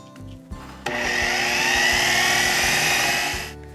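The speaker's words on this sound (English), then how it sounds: "you want to blend it until smooth" A kitchen blender whirs loudly and steadily for about three seconds, blending food until smooth for a keto shepherd's pie, then spins down, with a few faint clicks before it starts.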